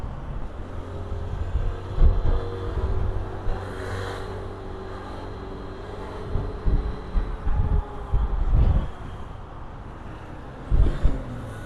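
Low rumbling road traffic with engines passing and occasional revving swells, a steady background of vehicles nearby, heard from an Arora Safari 125 scooter in Ankara.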